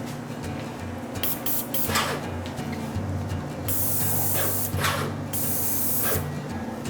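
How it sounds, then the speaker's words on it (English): A paint sprayer hisses in long bursts while coating a kitchen cabinet door, with a steady motor hum underneath and the spray cutting in and out in several passes, close and continuous. "So we're gonna move on to spraying the door."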